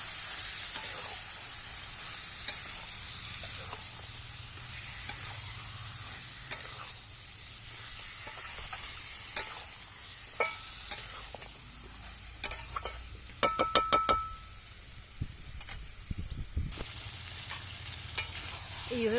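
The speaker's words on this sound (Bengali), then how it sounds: "এবার এর মধ্যে মাংসগুলো অ্যাড করে দিচ্ছি দিয়ে মশলার সঙ্গে ভালোভাবে মিশিয়ে নেবো" Meat stirred into hot spiced oil in a pan, a steady low sizzle with scraping spatula strokes and occasional clinks, fairly quiet with no talk.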